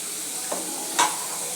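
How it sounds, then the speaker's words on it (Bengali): Chicken and potato sizzle in a pan with a low, steady frying hiss, broken by two quick scraping stirs. "ভালো করে সেটাকে নেড়ে চেড়ে কষিয়ে নেব।"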